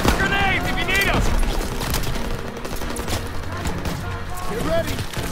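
A continuous fusillade of rifle and machine-gun fire in the WWII shooter Call of Duty: WWII rolls on without a break, with shouted voices layered over the dense battle noise.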